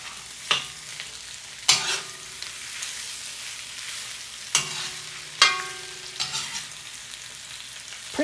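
Potato pieces stir-frying in a cast iron pan give a continuous sizzle, broken by several sharp spatula scrapes and clanks at irregular intervals, close and clear with no talk.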